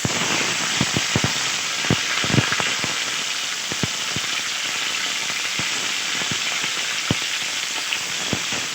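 Rohu fish fry in hot mustard oil in a wok on a gas stove, giving a loud continuous crackling hiss with frequent sharp spitting pops throughout.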